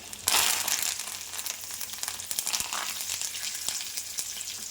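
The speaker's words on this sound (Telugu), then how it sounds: "ఇవన్నీ మంచిగా ఫ్రై చేసుకోవాలండి దాంట్లో పోపులో" Dried red chilies and curry leaves fry in hot oil for a tempering, with a loud sizzle that bursts up at the start and then settles into a steady crackle.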